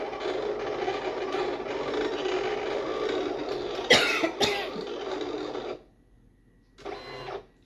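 A Silhouette Cameo 4 cutting machine makes two cutting passes, with a continuous mechanical whirring and carriage movement, a couple of sharp clunks, a brief silence, then a short final burst of motor noise.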